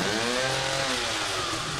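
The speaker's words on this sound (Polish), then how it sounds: "Ale piła jakaś taka dziwna." A chainsaw in the horror game The Evil Within roars steadily for about two seconds, loud and close, with a rough, droning engine buzz.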